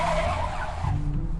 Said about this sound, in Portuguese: Esse motorista imprudente acelera na curva e perde o controle.